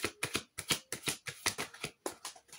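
Cartomancy cards riffled and shuffled by hand in quick, rhythmic bursts of crisp flapping, close and clear with no talking.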